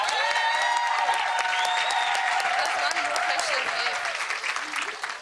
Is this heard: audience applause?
yes